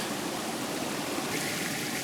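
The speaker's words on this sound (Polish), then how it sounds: "w tej leśnej gęszczy wśród szumu potoków" A mountain stream in dense forest rushes steadily in a continuous, full broadband roar, close by and unbroken throughout, with no voices.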